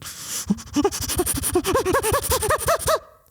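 A voice imitates a chimpanzee, rapid rhythmic huffing breaths that climb into hooting, pitched panting, building in pace before stopping abruptly.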